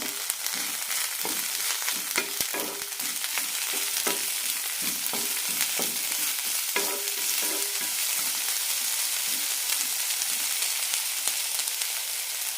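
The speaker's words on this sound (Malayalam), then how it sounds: "കൂടെ തന്നെ രണ്ട് തക്കാളി അരിഞ്ഞതും നന്നായി വയറ്റാം" Chopped tomatoes being sautéed with onion and roasted gram in a pan for ridge gourd chutney, a continuous bright sizzle with intermittent spatula scrapes and stirring, close and steady throughout.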